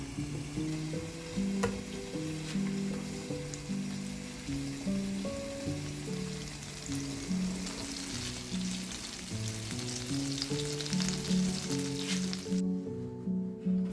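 Carrots sautéing in a pan of butter, vegetable oil and olive oil give a steady close sizzle, with the scrape and clatter of stirring throughout and a sharper burst near the end.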